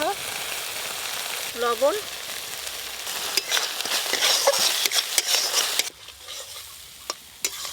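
Mustard paste and spices, thinned with water and turmeric, sizzle steadily in a hot pan while a spoon stirs and scrapes in sharp clicks; a voice speaks briefly near the start.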